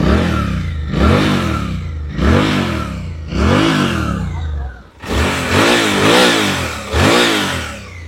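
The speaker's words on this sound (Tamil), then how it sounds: "இப்போ நான் ரெவ் பண்ணும் போதே இந்த வண்டி வந்து நல்லா ஸ்மூத்தாக இருக்குது." A Suzuki V-Strom 800DE parallel-twin adventure bike is revved hard again and again at close range. Each rising roar drops back toward idle, and the last burst is longer and louder.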